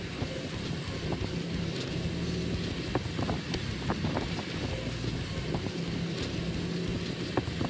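A Caterpillar D109 bulldozer clears rows of pine trees, its engine a continuous low rumble with scattered cracks and knocks of timber, steady and somewhat distant with wind noise.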